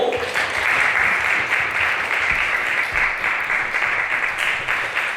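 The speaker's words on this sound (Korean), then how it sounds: "박수로." A church congregation applauds at the close of a Sunday worship service, a steady, dense wash of many hands clapping together, loud and sustained throughout with no talk.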